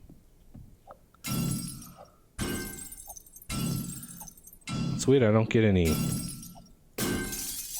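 Glass windows shattering in the survival game 7 Days to Die: several loud bursts of breaking glass come one after another at a steady pace. Someone talks in between the smashes.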